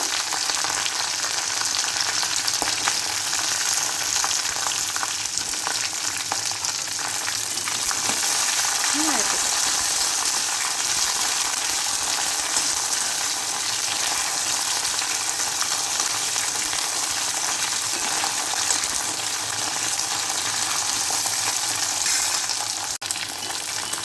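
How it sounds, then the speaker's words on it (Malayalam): Sliced okra and shallots sauté in a pan for sambar, giving a dense, even sizzle that holds steady and fairly loud from start to finish with no break. "വെണ്ടയ്ക്കും ഉള്ളിയും ഒന്ന് വഴണ്ട് വന്നിട്ടുണ്ട്"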